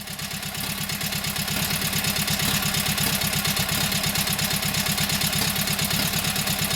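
Kohler KT17 engine, freshly started after a lost-governor repair, runs at a steady idle with an even, fast, throbbing putter and light mechanical clatter, close and constant throughout.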